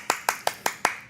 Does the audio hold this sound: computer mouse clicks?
no